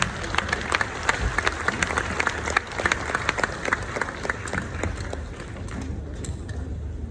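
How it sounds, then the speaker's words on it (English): Audience applauding panel speakers on stage at the Blockchain Life 2024 conference, with sharp individual claps over a steady crowd patter that gradually thins and fades toward the end. "let's applaud for our speaker."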